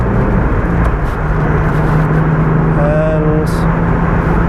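Inside a Volkswagen Corrado accelerating onto the M42 motorway in third gear, a steady loud engine and road drone fills the cabin, with a rising whine briefly emerging partway through.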